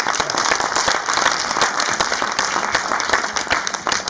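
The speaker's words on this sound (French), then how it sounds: "je vous demande de l'applaudir, s'il vous plaît" Warm crowd applause for filmmaker Moussa Sène Absa, dense continuous clapping from a seated audience at steady volume from start to finish.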